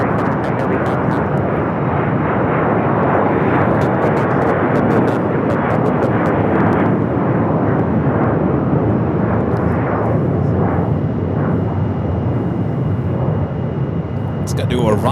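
Airliner taking off from runway 7 left at Phoenix Sky Harbor, a loud continuous jet engine roar holding strong and close for the whole stretch, with faint crackle over the top.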